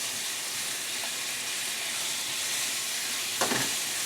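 Ground pork frying in olive oil in a pan, a steady close hiss and sizzle throughout with a brief louder clatter near the end.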